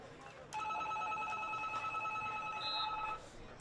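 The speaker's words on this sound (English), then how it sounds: "Someone's phone's going off." A phone rings steadily for about three seconds with a bright electronic tone at a UPSL soccer match between the Nationals and Inter Detroit, standing out over crowd ambience.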